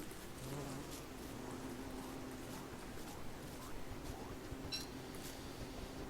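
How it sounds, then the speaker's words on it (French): Bees swarm near beehives in the survival video game Don't Starve, a continuous faint buzzing drone with a few small clinks, no talking. "J'ai l'impression qu'il y a des ruches bien violentes dans le coin"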